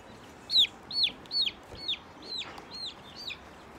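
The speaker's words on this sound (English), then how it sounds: "We're gonna bring the chicks back inside so they can get nice and warm." Baby chicks give a quick series of about seven thin, high chirps and peeps, close and clear, with quiet background and no talking.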